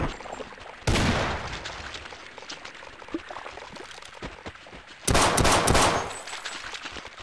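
Pistol shots in the game Half-Life Sven Co-op, two loud bursts separated by quieter clatter and scattered small impacts in between.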